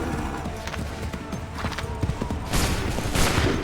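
Musket volley fired on command in Assassin's Creed 3, a burst of crackling shots with clattering hooves and battlefield commotion, loud and close, swelling near the end.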